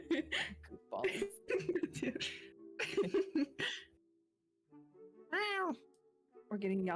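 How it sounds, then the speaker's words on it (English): A cat meows once with a clear rising-and-falling cry, after a stretch of casual talk and laughter among several people, who start speaking again right after it. "We're getting the authentic cat experience right now."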